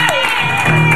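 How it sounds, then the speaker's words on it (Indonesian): Studio audience applauding and cheering on an Indonesian TV talk show, a dense, steady wash of clapping with crowd voices and whoops, loud and close throughout the brief moment. "Tepuk tangan dong buat Ajun."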